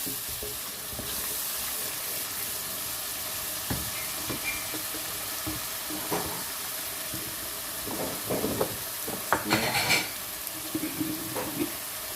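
Chana masala with salt and spices being stirred and roasted in a pan, a steady sizzling hiss broken by scraping stirs that grow busier and louder toward the end, with no voices.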